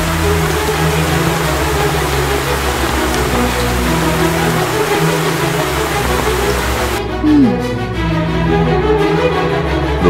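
Steady rain falls in a continuous loud hiss, with a low rumble underneath, and the sound thins slightly toward the end; no talking.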